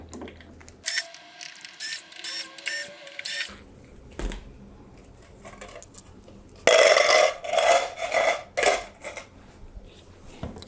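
Screws being unscrewed from the side panel of a Roland digital piano, with several bursts of quick ratcheting clicks from a screwdriver separated by pauses, close and clear.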